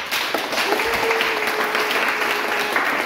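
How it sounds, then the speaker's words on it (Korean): A group of people clapping their hands together loudly in unison, a dense, steady wash of applause filling the whole stretch with no pause. "우리 소리 나게 박수 한번 쳐보자."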